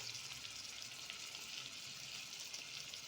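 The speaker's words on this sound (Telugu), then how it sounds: "కొద్దిసేపు ఫ్రై చేద్దాం కొంచెం అల్లం వెల్లుల్లిపాయ ఫ్రెష్ తీస్తామండి ఇందులో కలుపుతూ ఉండాలి" Ginger garlic paste fries in a rice cooker, giving a steady, fairly faint broadband sizzle with a continuous hiss and no voices.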